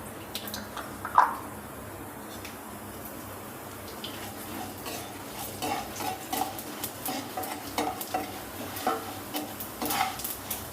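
Chana dal and urad dal fry in hot oil with popped mustard seeds in a kadai, a soft crackling sizzle with occasional stirring scrapes and clinks, close and moderately loud, no talk.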